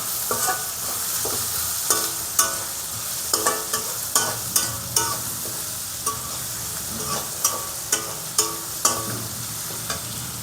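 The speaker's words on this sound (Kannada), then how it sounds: "ಈ ರೀತಿ ಉಪ್ಪು ಹಾಕ್ಕೊಂಡು ನೀಟಾಗಿ ಬಾಡಿಸ್ಕೊಳ್ಳಿ" Vegetables salted and sautéed in a pan for vegetable fried rice, a steady close sizzle broken by repeated sharp clanks and scrapes of stirring, with no talking.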